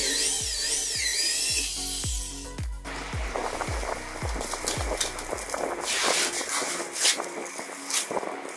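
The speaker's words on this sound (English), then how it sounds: "To fix this, I drilled a hole on top cover." Power drill boring a hole through the top cover of a 3D printer enclosure: a string of sharp, evenly spaced clicks and knocks leads into a steady whirring grind, close and moderately loud, with no talk.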